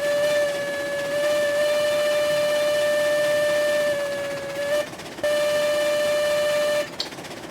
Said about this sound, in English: the Betsy's whistle actually sounds pretty good